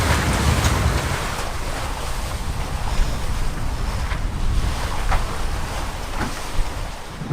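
A sailboat crosses open ocean swell at about 5.5 knots on a bluewater passage from Kiribati to the Marshall Islands, engines off. Steady wind buffets the microphone over a continuous rush of water along the hull, with no talking.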